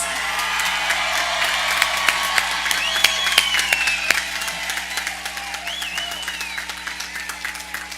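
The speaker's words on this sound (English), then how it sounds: "give them a well-deserved round of applause" An audience at a high school graduation ceremony applauds the graduates. Steady, fairly loud clapping continues throughout, with scattered whoops and cheers rising above it.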